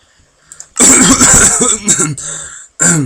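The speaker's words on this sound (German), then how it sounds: "Hey, das war jetzt ein fester Husten, hä?" A man gives a hard, forceful cough close to the mic. It comes as a long harsh burst, then shorter hacks, and ends with one more loud cough after a brief pause.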